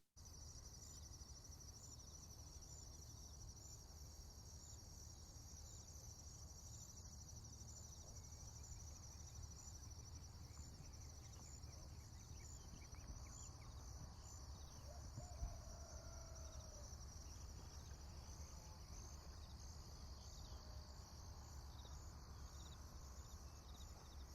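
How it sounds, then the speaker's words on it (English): Quiet outdoor ambience with a constant high insect-like trill and occasional distant bird calls over a low background rumble. "add some background noise of like birds chirping and other sort of nature sounds"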